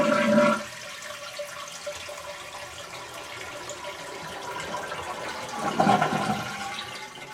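A toilet is flushed to empty its tank, a close, loud rush of water that drops into a steady swirling drain, then swells again with gurgling near the end.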